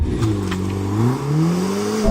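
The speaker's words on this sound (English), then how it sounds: "now I'm going to launch the little Mercedes-AMG A45S" Mercedes-AMG A45 S launching hard under launch control, its engine revving with a rising, steady pitch as the compact hatchback accelerates away, loud and close with a brief dip as a gear change comes through.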